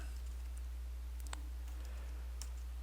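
Computer keyboard keys pressed for a shortcut: a few light, close clicks scattered over a steady low electrical hum, with no talking.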